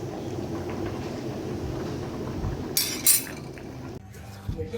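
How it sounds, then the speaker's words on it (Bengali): Electric kettle heating water indoors, giving a steady low rumble with a brief bright hiss and a few light clinks, then dropping quieter near the end. "এখন গ্যাসে না হলে এই ইলেকট্রিক কেতলিতেই জল গরম করে নিচ্ছি"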